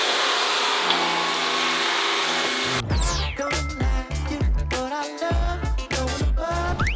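A steady cordless stick vacuum cleaner with a 225W BLDC motor whines for about three seconds, then it cuts off and music with a beat takes over.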